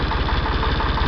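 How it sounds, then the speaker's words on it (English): A Ford 335 industrial tractor engine at low idle, with a steady, close, loud chugging pulse that repeats rapidly and evenly with no voices. "So this is low idle. Sounds pretty sweet."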